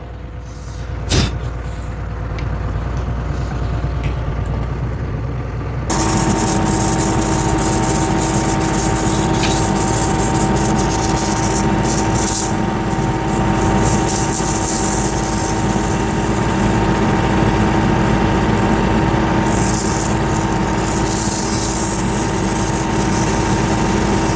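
An engine-driven pesticide sprayer fitted with a larger nozzle runs loud and steady, its droning whine starting quieter and then jumping to a dense, continuous roar.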